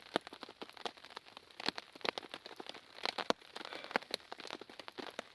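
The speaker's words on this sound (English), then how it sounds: "And the sounds of the rain, you know, that will help anyone sleep." Light rain drizzling onto a hammock tarp outdoors in the UK, an irregular patter of small crisp taps and crackles, close but fairly soft, with no one speaking.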